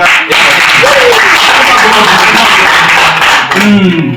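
Audience applause at a family gathering, a dense steady wash of clapping filling the whole moment, with voices and shouts rising over it.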